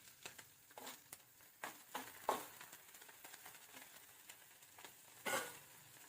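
Chopped onions and green chillies fry in a pan with a faint, soft sizzle, broken by scattered light stirring scrapes and one brief louder clatter, with no voices.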